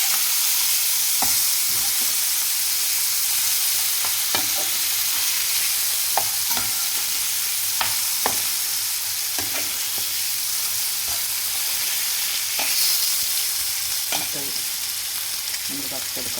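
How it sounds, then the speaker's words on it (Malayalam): Sardines fry in a pan with a steady, close hiss of oil. Scattered clicks and scrapes of stirring come through the sizzle, and no one speaks. "പിന്നെ നമ്മുടെ മത്തി വറുത്തെടുക്കുകയാണ്"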